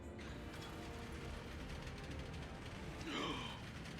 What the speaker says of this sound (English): Oh, I have to open the door myself.